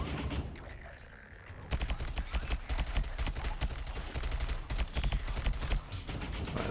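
Rapid game gunfire from a first-person shooter tower defense game, Sentry, crackling in dense bursts against hovering flying enemies after a quieter opening, loud and continuous with a busy mechanical backdrop.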